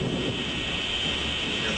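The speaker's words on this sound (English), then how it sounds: "we're going to be experiencing some turbulence and flying through a small thunderstorm" Simulated thunderstorm in a flight simulation, a steady loud rumble of thunder and rain-like hiss filling the clip without pause or talk.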